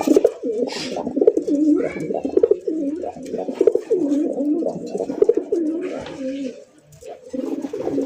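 Domestic native pigeons offered for sale coo steadily in deep, rolling, repeated phrases, loud and close throughout, with brief bits of other birds and background noise mixed in.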